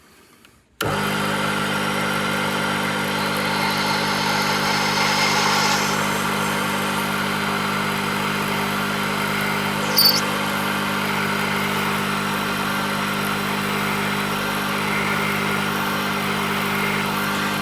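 Emco Unimat 3 mini lathe drilling into brass, a steady motor whine with constant machining hum running throughout, close and continuous with no talk.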